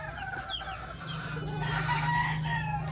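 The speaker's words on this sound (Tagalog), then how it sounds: "Ayun yung mga inahin sa battery cage." Hens in battery cages on a poultry farm cluck and call continuously, with a rooster-like crow rising among them over a steady hum of the housing.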